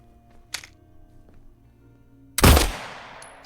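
Gunshots in the horror game Silent Hill 2 Remake: a sharp, short report followed about two seconds later by a louder, heavier blast with a ringing decay, against a quiet, faintly humming background.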